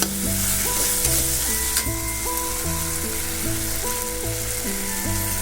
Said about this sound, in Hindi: सॉस को थोड़ा मैं भून लेती हूँ हमेशा से ही